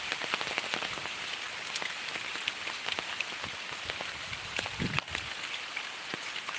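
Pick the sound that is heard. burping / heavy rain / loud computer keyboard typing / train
heavy rain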